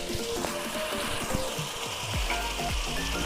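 Onions cook in a pan with a constant crackling sizzle, while a utensil scrapes and knocks against the pan from time to time. The sound is close.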